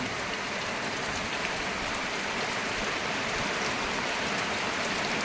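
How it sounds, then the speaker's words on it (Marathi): Rain falls steadily outdoors on farmland in a dense, even hiss that stays constant throughout, close and fairly loud with no voices. "थोडा कमी झाला मित्रांनो आता पाऊस"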